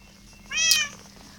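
A cat in the blocky video game Good Craft lets out one short, clear meow over faint low game ambience.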